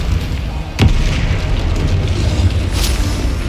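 In Hogwarts Legacy gameplay, a Bombarda explosion spell lands as a single sharp boom, followed by a loud rumbling game soundscape.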